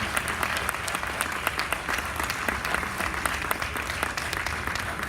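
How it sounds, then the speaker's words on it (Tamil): Audience applause at a Tamil New Year celebration, steady sustained clapping from a crowd throughout, fairly loud with no talk over it. "உங்களோட கரகோஷம் அவங்களுக்கு கண்டிப்பாக வந்து ஊக்கமளிக்கணும்."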